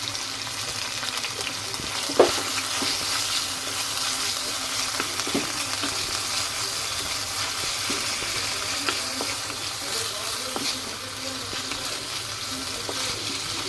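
Food sizzles steadily in a frying pan as it is lightly fried with a pinch of salt, a continuous close crackling hiss with a few soft clinks of a utensil.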